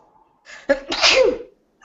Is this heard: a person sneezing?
yes